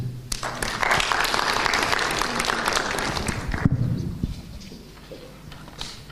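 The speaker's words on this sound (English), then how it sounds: "A round of applause, ladies and gentlemen." Audience applause ringing out after a speech at a Kenyan political event, dense steady clapping for about four seconds that then fades into quieter room noise.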